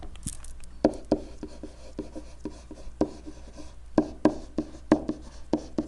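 Pen or marker writing on a surface during a math lesson on linear problems, a series of short scratchy strokes and taps in irregular rhythm, close and moderately loud with no talk.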